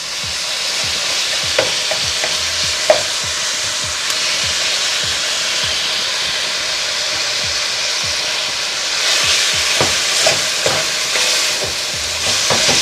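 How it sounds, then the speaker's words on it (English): Ground beef sizzles loudly in a pan on medium-low heat while a spatula scrapes and breaks it up, giving a constant frying hiss with repeated scraping taps, and no one speaks. "And now I'm gonna add the beef."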